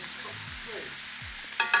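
Kidneys sizzle in a hot frying pan for devilled kidneys and are given a quick toss, a continuous hiss ending in a brief clatter of the pan.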